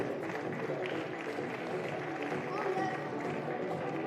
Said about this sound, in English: Round of applause, please, Piedro.